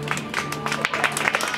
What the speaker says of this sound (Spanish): un aplauso para los premios